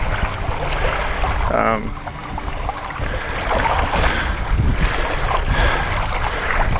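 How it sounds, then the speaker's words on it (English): Strong wind gusting over open water behind a small boat, a steady broadband roar with lapping waves, a brief voice cutting in partway through. "we've got the wind coming up behind us now, quite strong"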